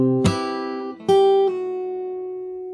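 A fingerstyle acoustic guitar plays a brief phrase: a strummed chord, then a second struck chord and a softer pluck that rings on and slowly decays, all close and clear without any voices.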